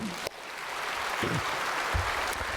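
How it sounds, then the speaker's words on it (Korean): A church congregation applauds its choir, steady broadband clapping filling the whole stretch at moderate level, with a few brief low voice murmurs underneath. "성가대 한번 박수 한번 해주세요"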